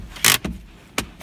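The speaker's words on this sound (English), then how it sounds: "Then you can pull the handbrake up." Handbrake lever pulled up inside a Ford Transit Custom van, giving a short mechanical ratcheting burst followed by a couple of sharp clicks, close up with no talking.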